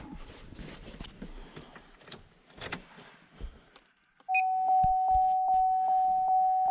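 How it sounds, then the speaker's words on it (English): Door-ajar warning chime from a 2003 Chevy Silverado 1500 with the door open, a steady sustained tone pulsing in regular beeps at close range, following rustling and handling noises inside the truck. "the door sensor beeps for like a little bit and then it'll go away"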